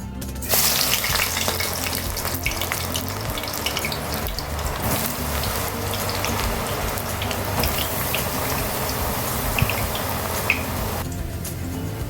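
Eggplant (brinjal) pieces fry in a pan of hot oil with a steady, dense sizzle and crackle throughout, close and continuous with no talking.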